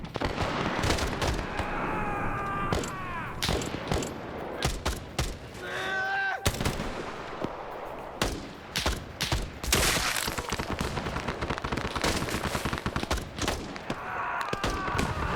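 Gunfire rings out from a tree line in a military video game set in Rhodesia. Irregular shots and short bursts crack out over about fifteen seconds, some sharp and close, others more distant, with radio-style voices talking in between.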